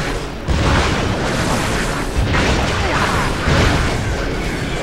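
An upgraded weapon firing in Ratchet and Clank: A Crack in Time, producing a continuous heavy booming roar of repeated blasts that swell in waves, loud and dense with no speech over it.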